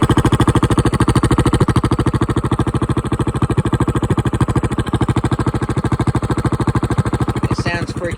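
A Predator 212cc hemi small engine with a straight pipe idles up close, a loud, steady rapid chugging pulse that runs unbroken throughout.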